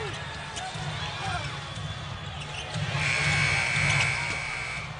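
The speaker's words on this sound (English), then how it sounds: "Let's listen for the buzzer." A shot clock buzzer sounds at an NBA game between the Memphis Grizzlies and Atlanta Hawks, a sustained electronic tone for about a second over arena crowd noise and squeaking sneakers.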